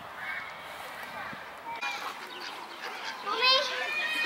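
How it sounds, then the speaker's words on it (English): Mallard ducks quack and honk nearby in scattered bursts, mixed with high chatter and distant background voices outdoors. "Ducks, pretty, pretty mallard ducks."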